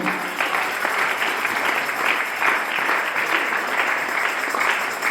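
A church congregation applauds steadily to acclaim the Lord, a dense, sustained wash of many hands clapping throughout at an even, fairly loud level.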